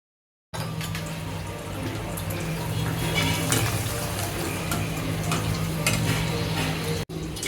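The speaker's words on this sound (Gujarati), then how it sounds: "એટલે હવે એને ભૂંગળા તળી જોઈએ નવો એક ઓપ્શન માટે" Bhungla snacks fry in a pan with a steady, even crackling sizzle over a low hum, holding the same level throughout before a brief dropout near the end.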